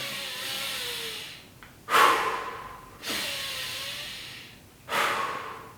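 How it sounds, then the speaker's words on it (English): Three forceful sniffing inhales through a partly clogged nose come at roughly even intervals, each a sharp close-up rush of air that fades into a quieter passive breath out. "breathe in through the nose aggressively, and then passively through the mouth"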